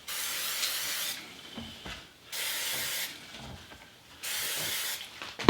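Three separate bursts of aerosol cooking oil spray hiss out onto mushrooms at a steady pace, each about a second long, with quiet gaps and a small clatter at the end.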